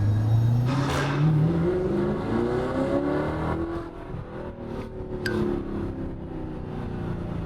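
Audi R8 V8 sports car engine revving up through rising gear sweeps, loud and close, then settling into a steady droning cruise with a brief high whine near the end.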